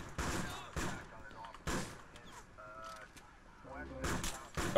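Bursts of shotgun fire in a chaotic Grand Theft Auto IV multiplayer match, several loud blasts spaced irregularly, with people talking excitedly over the gunfire.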